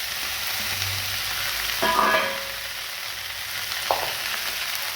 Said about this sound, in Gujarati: મોગરીનું શાક બનાવવા માટે આપણે સૌપ્રથમ તેલ મૂકીશું ત્યારબાદ મોગરી મેળવીશું